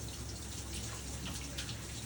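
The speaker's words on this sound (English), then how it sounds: "Wash your hands. Not with any soap, just a little water." Water runs from a tap as hands are rinsed under it, a steady close splashing flow with small irregular drips and splashes.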